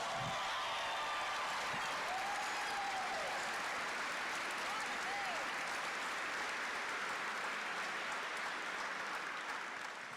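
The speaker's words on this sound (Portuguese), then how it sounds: "Pode aplaudir, pode aplaudir." A church congregation at a Cerco de Jericó service applauds in a sustained, continuous wash of clapping, with voices and faint tonal sounds mixed through it.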